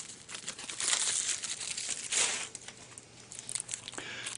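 Plastic packaging around a remote for a VIZIO E50-C1 50-inch smart LED TV being opened, with close crinkling and tearing bursts and short pauses between them.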